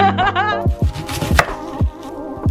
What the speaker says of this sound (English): I'm going to cut up this onion